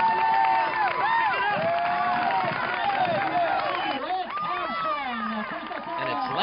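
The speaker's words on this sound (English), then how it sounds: "the crowd is rooting him on as he heads in for the 1989 championship" A crowd cheers and shouts for a young triathlete nearing the finish of the 1989 Coca-Cola National Championship Sprint Triathlon, a dense, continuous roar of voices with excited calls, and a commentator talking over it.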